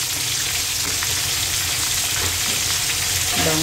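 Food frying steadily in hot oil, a close, continuous sizzle and crackle throughout while preparing a birthday spread of palabok, with a faint stirring clink near the end.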